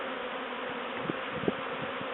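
A swarm of bees at a top bar hive gives a steady, dense buzzing drone, with a couple of louder individual passes near the end.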